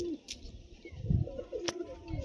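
Pigeon cooing in a loft, soft low murmuring coos repeating through a short stretch, with a couple of brief brighter clicks and no talk over it.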